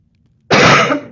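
A single loud, close cough bursts out after a moment of near silence, followed by the start of a second brief cough.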